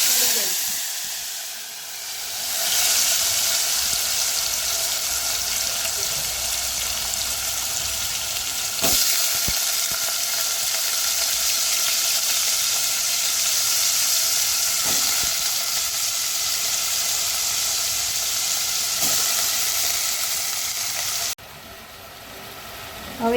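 Washed potatoes hit hot oil seasoned with cumin, asafoetida and fenugreek powder, setting off a loud, steady sizzle and hiss that runs without a break, with a few faint clinks.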